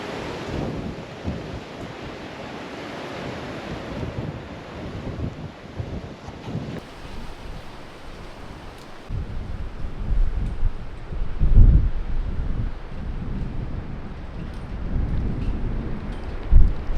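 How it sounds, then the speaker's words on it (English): Strong coastal wind buffets the microphone at a beachfront campsite, roaring in continuous gusts that swell and thump louder toward the end, with surf-like rumble beneath. "it's just far too windy today"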